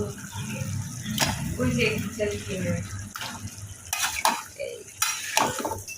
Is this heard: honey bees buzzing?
no